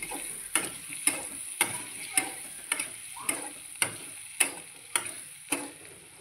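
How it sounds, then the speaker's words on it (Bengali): A utensil knocks repeatedly against a pan as tomato is stirred into frying sea fish, about ten crisp evenly spaced taps over a low, soft sizzle. "এই টমেটোটা আমি দিয়ে দিলাম, আবার একটু কিন্তু নেড়ে নেব।"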